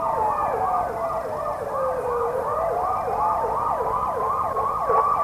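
Fire truck sirens from Saint Augustine firefighters and an airfield crash unit respond to a Piper PA28 landing gear emergency in Florida, wailing loudly and continuously in fast repeating up-down sweeps with overlapping tones, close and alone.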